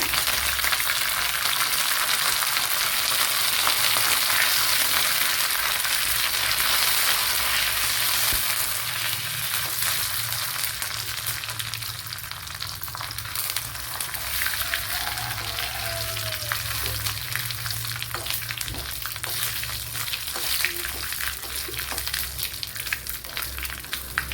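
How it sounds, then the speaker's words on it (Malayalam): Dried red chillies frying in a tablespoon of coconut oil for a sardine fish curry, giving a dense continuous crackling sizzle that stays steady and close throughout with no talking. "ഒരു ടേബിൾ സ്പൂൺ വെളിച്ചെണ്ണ എടുത്തിട്ടുണ്ട് അതിലേക്ക് ഇനി രണ്ടു മൂന്ന് വറ്റൽ മുളക് ചേർത്ത് കൊടുക്കുക"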